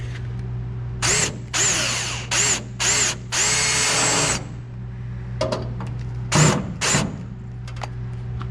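A power drill drives screws to fasten the seats into a 1941 Chevy truck. It makes several short, loud bursts of whirring motor with pauses between them and a low steady hum underneath, heard close with no speech.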